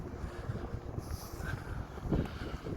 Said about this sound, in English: I don't know if you can hear me, it's a bit windy.